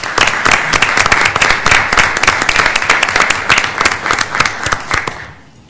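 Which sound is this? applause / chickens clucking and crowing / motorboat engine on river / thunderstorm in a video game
applause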